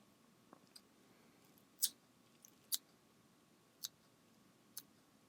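Sharp scissor snips trimming bucktail on a fly being tied, a few separate crisp clicks spaced about a second apart against a quiet background.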